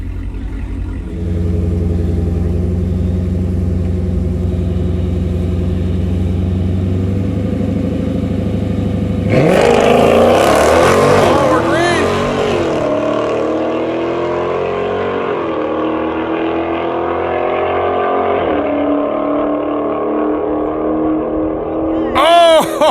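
Steady engine drones, then a sudden loud burst as a Dodge Challenger Shaker Scat Pack and another car accelerate hard in a race, engines revving and roaring for several seconds before easing.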